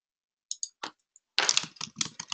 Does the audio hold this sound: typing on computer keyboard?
yes